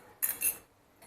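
A whisk scrapes and clinks against a bowl while mixing in malai (milk cream), making two quick metallic bursts and then a faint tick, close and fairly quiet.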